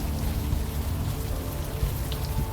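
Steady rain falls on the streets in the game Unavowed, a dense, constant hiss with soft patters of drops and a low rumbling undertone, and no voices.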